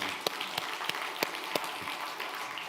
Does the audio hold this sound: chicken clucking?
no